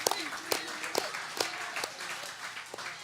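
Church congregation giving a slow, rhythmic church clap, loud separate claps falling roughly every half second over a low murmur of voices in the room.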